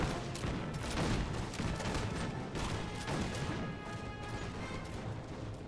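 Musket volleys from line infantry and fusiliers in the Napoleon: Total War battle game make a dense, continuous crackle of overlapping shots. The gunfire stays steady across the whole stretch, as in a distant sustained firefight.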